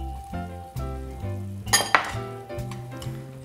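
Cherry tomatoes sizzle in a pan of pasta sauce with a steady, close frying hiss, broken by sharp clinks of a utensil against the pan over soft background music.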